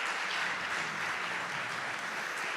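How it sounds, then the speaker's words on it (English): A chess conference audience gives the moderators a sustained round of applause, a dense, even wash of clapping from many hands with no speech. "Give them a round of applause."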